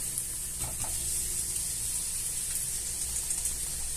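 Vegetables dropped into onions sizzling in a Cookeo multicooker give a steady, close frying hiss with soft stirring scrapes throughout, no voices.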